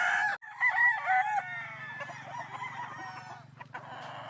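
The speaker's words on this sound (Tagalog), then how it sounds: "Territorial kasi ang mga manok kaya sila nag-iingay." Game farm chickens crow and cluck noisily in a scratch pen, with a loud rooster crow up front followed by overlapping clucking and calls.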